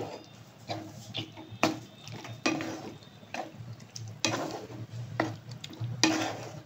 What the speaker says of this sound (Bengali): এই টমেটোটা এবার এই যে ক্রিমটা আর এই যে কর্নটা যেটা হচ্ছে তার মধ্যে দিয়ে দিলাম। দিয়ে 2 মিনিট জাস্ট নেড়ে নিচ্ছি।